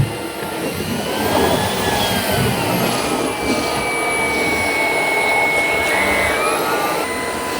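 A Shark PowerDetect IP1255 cordless vacuum cleaner runs steadily on carpet, giving a loud continuous whine with a high tonal motor note that barely changes throughout.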